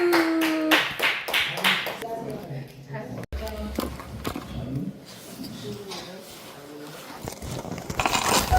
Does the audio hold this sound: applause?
yes